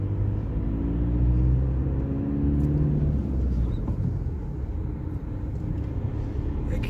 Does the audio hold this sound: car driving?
yes